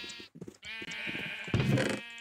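Minecraft sheep bleat in version 1.17, a couple of wavering baa calls close by, with a brief gap between them and a louder, rougher bleat at the end, and no talk over them.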